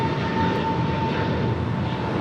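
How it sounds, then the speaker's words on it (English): An American Airlines Airbus A321neo departs LAX, producing a steady, loud broadband jet roar with a constant tonal whine running through it, sustained without a break and with no voices. "1303 departing to Charlotte on an A321 Neo."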